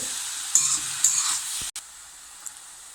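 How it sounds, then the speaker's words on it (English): Chopped mushroom heads sauté in a pan for mushroom masala, a faint sizzling hiss with a couple of stirring scrapes that drops abruptly to quieter background. "When chopped mushroom heads, saute it thoroughly."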